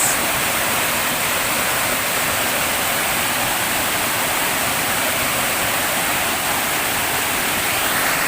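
Steady, dense rushing of a river in a forest fills the scene, loud and close, with no voices over it.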